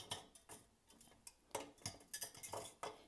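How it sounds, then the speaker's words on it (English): A whisk clinks rhythmically against a bowl while dry milk powder is stirred into milk for homemade yogurt, a series of quick, close metallic taps and scrapes at an uneven pace, quiet and without talk. "I put a cup of dry milk, and whisk it in."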